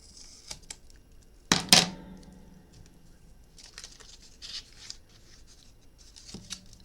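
A few sharp scissor snips and crisp paper-cutting clicks while making a box, one louder burst near the start, followed by quieter scattered snipping in a quiet room.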